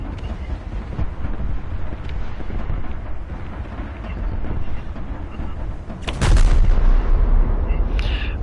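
Gunfire and shell blasts in the War Thunder combat game rumble as dense, continuous low booms, with a louder, harsher burst of fire near the end.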